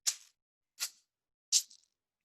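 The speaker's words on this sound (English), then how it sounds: "three simple shaker sounds, and dragged them into three slots" Three separate shaker hits in a tech house drum production, each a short bright rattle followed by silence, evenly spaced and played one after another.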